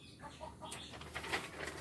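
A few soft hen clucks with some rustling, faint and fairly close, no talking.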